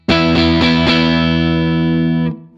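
An Epiphone Les Paul electric guitar on its neck pickup with the tone knob pulled rings out a loud distorted chord, strummed a few times and then left to sustain before being cut off.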